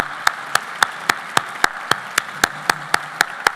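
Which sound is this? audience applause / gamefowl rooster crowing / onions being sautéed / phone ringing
audience applause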